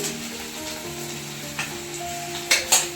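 Food frying in a pan in a home kitchen makes a faint, steady sizzle, broken by a few sharp utensil clinks toward the end, with a low tonal hum in the background.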